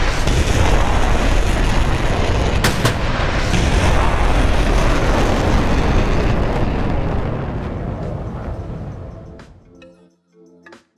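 Four Harpoon missiles are destroyed by a cruiser's defensive fire in the DCS combat flight game, producing a continuous loud rumble of blasts and booms for about nine seconds that fades out toward the end, with no talking.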